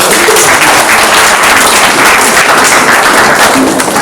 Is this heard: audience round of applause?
yes